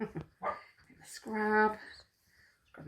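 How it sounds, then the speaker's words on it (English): A pet dog barks and yips indoors in short bursts while people keep talking close by. "Excuse my dog barking."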